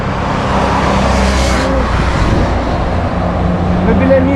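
A car drives past on a road near Marbella in Spain, a broad steady rumble that swells and fades while people talk nearby throughout.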